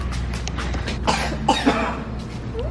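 Several close coughs and throat-clearing bursts, irregular and moderately loud, over a low background hum with no talking.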